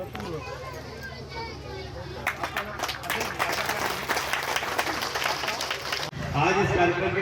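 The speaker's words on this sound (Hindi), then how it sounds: "एक बार जोरदार तालियों से स्वागत आप सभी भी कीजिएगा" An audience at a BJP party gathering applauds, the clapping swelling into a dense, steady patter that carries on under continued amplified speech, with a louder burst near the end.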